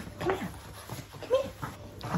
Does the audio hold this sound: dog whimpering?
yes